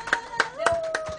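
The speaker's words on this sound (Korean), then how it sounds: "자, 우리 박수 한번 쳐주세요" A small audience claps in a few sparse, uneven beats after a child's song performance at an elementary school event, with a host's voice talking over the clapping.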